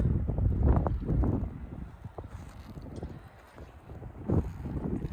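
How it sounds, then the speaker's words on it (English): Gusty wind buffets the microphone outdoors in a freshly graded backyard of a house under construction, low rumbling surges rising and falling with no talk. "It's a little windy out here"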